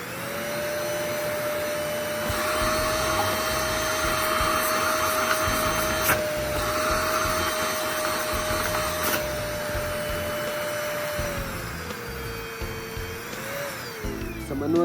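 An Orfeld 35 kPa cordless vacuum cleaner runs on its high setting, a loud steady motor whine with a constant tone that dips and shifts near the end, heard alone with no talk.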